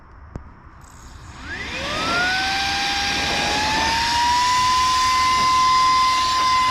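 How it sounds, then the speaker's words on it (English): A SAKER cordless mini vacuum cleaner fitted with its blower attachment spins up from a low rumble into a loud, steady whine, with rising tones that settle into a continuous high-pitched motor roar close by. "This little attachment right here fits on the back side of this. It's like a blower."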